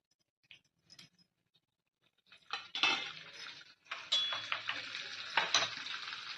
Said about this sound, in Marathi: आता आपण कढाईमध्ये तेल टाकून घेतलेलं आहे आणि याच्यामध्ये सोडणार आहोत बटर